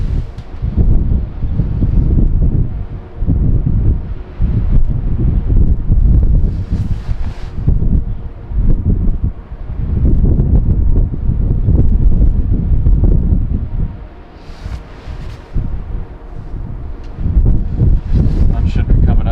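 Strong gusting wind buffets a remote mountain fire lookout at 11,000 feet, roaring loudly across the microphone in broad surges with brief lulls and no talking.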